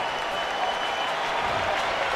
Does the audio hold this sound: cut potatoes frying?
no